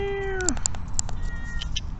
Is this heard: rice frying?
no